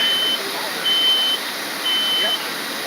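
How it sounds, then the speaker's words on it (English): A smoke alarm gives three evenly spaced high-pitched beeps, each about half a second long, over a steady background hiss during a fire department sprinkler system demonstration. "Smoke detector still working."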